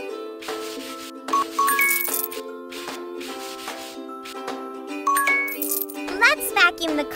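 Rubbing strokes of a sofa being wiped clean in a pet shelter video game, repeated scrubbing bursts laid over cheerful chiming game music and sparkle effects.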